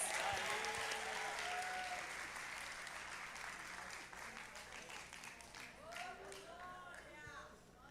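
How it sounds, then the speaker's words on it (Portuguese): Church congregation applauding, a steady wash of clapping that gradually thins out, with faint voices and a few short vocal sounds rising over it toward the end. "Aplaude de novo, porque eles foram muito bons."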